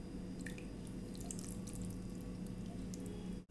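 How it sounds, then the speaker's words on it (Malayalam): Tamarind water pours into a cooking pan, making a steady, soft trickling splash that continues evenly for a few seconds and then stops. "ഇനി ഇതിലേക്ക് കുറച്ച് പുളിയുടെ വെള്ളം ഒഴിച്ച് കൊടുക്കാം"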